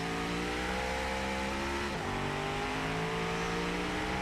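A stock car engine in Automation holds full throttle, a loud, steady, buzzing drone that dips briefly at a gear change midway, then climbs and keeps roaring without pause.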